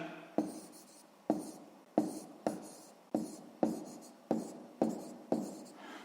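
Pen or pencil writing out the answer to a sixth-grade maths exercise, close and quiet, with nine or so brisk strokes in a steady rhythm, each starting sharply and trailing off, and no talking.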